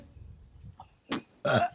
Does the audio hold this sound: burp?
yes